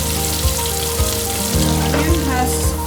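Onions frying over a low flame for ven pongal, a steady close sizzle with faint stirring and a low periodic hum underneath.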